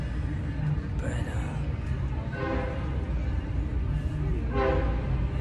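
A train rolls through a small Texas town, its low rumble steady under the scene, with a couple of faint horn blasts rising from far off.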